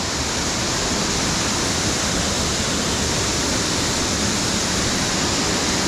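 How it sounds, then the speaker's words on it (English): Harmby waterfall roars loud and unbroken, water forced out from under an aqueduct and road before dropping down, a dense steady rush heard close up with no pauses. "you can see where the water's coming underneath the aqueduct, underneath the road there"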